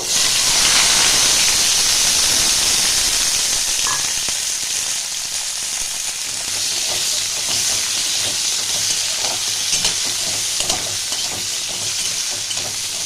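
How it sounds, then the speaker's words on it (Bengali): Large cut potatoes fry in hot oil with panch phoron, giving a loud, steady, close sizzle and hiss with a few faint stirring scrapes and no talking. "এবার আমার 2টো আলু কেটে রাখা বড় সাইজের, এটাও ভাজবো।"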